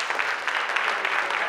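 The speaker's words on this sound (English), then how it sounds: "And you applaud, and I thank you for that" Steady applause from an audience at a town hall meeting on a state of emergency in Philadelphia, a continuous dense patter of clapping that holds evenly throughout.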